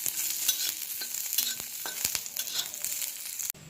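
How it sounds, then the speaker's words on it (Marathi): Onion, grated coconut and garlic roast in a pan for a Konkan-style chicken curry paste, with a soft frying hiss and repeated clicks and scrapes of a spoon stirring, ending in a brief break. "कांदा भाजून घ्यायचा आणि मग खोबरं आणि लसूण भाजून घ्यायची"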